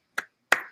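Two sharp hand claps ring out close and clear, separated by a short pause, with silence around them.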